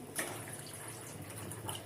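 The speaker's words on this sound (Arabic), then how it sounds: "نجيب شويه ميه لان الشوربه بتاعتي دسمه اهي" Water pours into a pot of rich, oily soup with harissa and chili, a quiet, brief splashing that swells at the start and fades under a low background hiss.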